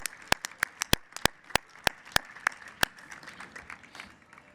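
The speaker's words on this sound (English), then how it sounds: "You all deserve a round of applause." A standing audience at an evening fundraiser soiree claps, the sparse, sharp individual claps ringing out close and distinct over a soft crowd murmur and thinning toward the end.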